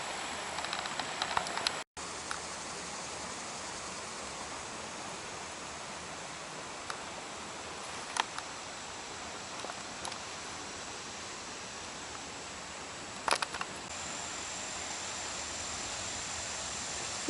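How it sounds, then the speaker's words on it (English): Steady broadband rush of Mill Creek flowing into the Allegheny River near the Arch Bridge, constant and fairly close, with a couple of brief louder bursts and no talk. "There's just something so relaxing about hearing the sound of water."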